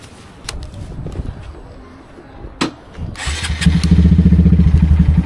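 A Honda Grom motorcycle engine, just rebuilt with a new crankshaft, cranks after a few clicks and catches at once, settling into a loud, steady, chugging idle close to the listener.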